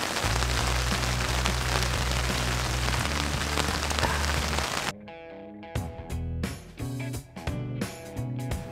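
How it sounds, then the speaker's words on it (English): Steady rain pattering on an emergency shelter during a monsoon night, a dense continuous hiss for the first five seconds that then breaks into scattered, irregular drips and taps. "It started raining again."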